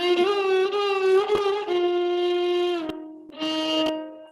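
A melodic line in raga Kannada, in Indian classical style, with sliding gamaka ornaments between notes. It is sung or played as one sustained, harmonically rich voice, with a short pause near the end before the phrase resumes.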